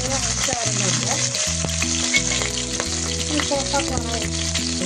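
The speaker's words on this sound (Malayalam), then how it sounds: "അതിനുശേഷം നമ്മൾ പച്ചമുളക് ഇടുക." Green chillies hit hot oil already crackling with mustard seeds, fenugreek and garlic for a bilimbi pickle, producing a dense, loud sizzle, while a melodic tonal background plays steadily underneath and no one speaks.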